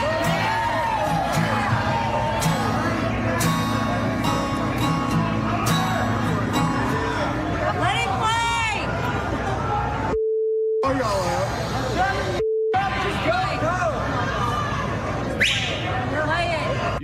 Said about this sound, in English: You can tell the crowd's huge by the individual voices that are getting picked up by the microphone.